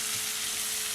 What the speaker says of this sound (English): I love the smell of lamb sizzling and searing